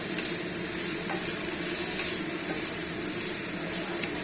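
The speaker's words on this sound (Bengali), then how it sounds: "এবার এটাকে গ্যাস বাড়িয়ে নাড়াচাড়া করব।" Drumstick flowers stir-fried over raised heat in a pan, a constant close sizzle with light scraping stirs, no voices.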